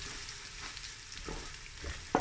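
Onions browning in a pan with ginger and garlic for chickpea pulao give a steady low sizzle with soft stirring scrapes and a sharp clack near the end, no voices.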